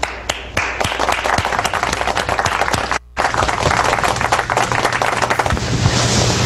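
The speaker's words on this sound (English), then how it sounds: "Please give a warm round of applause for Timmy." Studio audience claps and applauds for a guest on a talk show, sharp close hand claps in a dense burst, a momentary cut midway, then continuing to the end.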